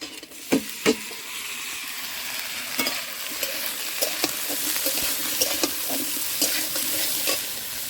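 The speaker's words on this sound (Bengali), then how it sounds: "এবার আমি দিয়ে দেবো ফুলকপি।" Cauliflower florets added to fried onions sizzle steadily in a pan, with several sharp spoon scrapes and clinks against the metal as the mixture is stirred, close and moderately loud, with no talking.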